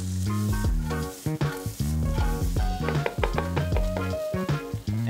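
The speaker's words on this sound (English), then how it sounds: "Start frying everything or sauteing everything in your saute pan or your wok." Onion sizzles and fries in a hot wok, with steady crackling under louder tonal background music.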